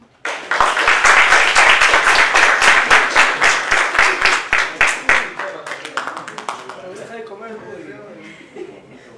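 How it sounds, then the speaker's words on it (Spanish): Audience applauding after a university lecture, a loud burst of many hands clapping that slowly thins and fades, with a few chuckles and voices emerging as it dies away. "nuevamente las palmas, por favor, para el profesor Francisco Maya"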